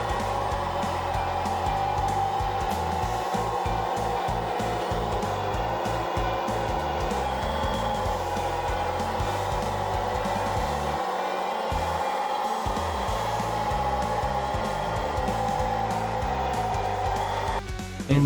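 A Super Frog 1/14 T14 RC crawler transport vehicle climbs a low slope, its small electric motor giving a steady, continuous whine with a buzzing low drivetrain hum throughout, close and fairly loud, with no talking.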